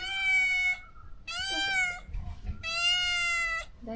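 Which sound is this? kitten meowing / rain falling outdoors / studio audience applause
kitten meowing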